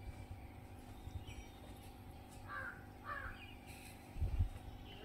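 A crow caws a few times at a moderate distance over a quiet outdoor background, with a low thump near the end.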